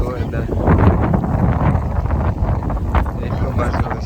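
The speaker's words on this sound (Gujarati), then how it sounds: "પવન આવે જોરદાર" Strong wind blows across an open bajra field during unseasonal summer weather, buffeting loudly and unevenly, with a voice talking over the gusts.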